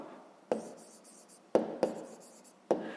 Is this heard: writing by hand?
yes